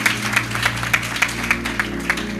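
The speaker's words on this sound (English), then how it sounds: "I told you people don't like clapping." An audience at a business and Bible panel session applauds with a steady, rhythmic clapping, the individual claps evenly spaced over a low background hum.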